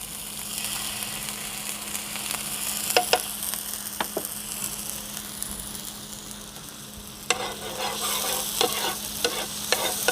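Steady hissing sizzle of ginger garlic paste frying in hot oil, with occasional sharp scrapes and taps of a spoon stirring in the pan.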